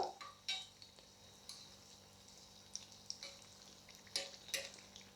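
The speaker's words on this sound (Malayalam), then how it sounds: "നമ്മൾ ഒഴിച്ച മാവിത നല്ല ഫ്രൈ ആയി വരുന്നുണ്ട്" Unniyappam batter fries in an appam pan, giving a soft steady sizzle under a few light metallic clicks and scrapes, quiet and close.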